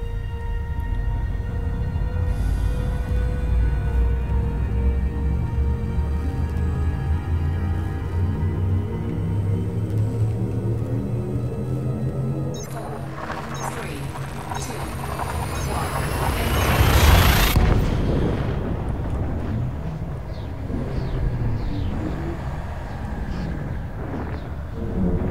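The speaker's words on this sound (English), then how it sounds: "Engage FSD. Frameshift drive engaging." A spaceship's frameshift drive spools up in a video game: a layered, droning engine hum swells into a rising, whooshing sweep that peaks and cuts off, then settles back into a lower rumble, loud and close throughout.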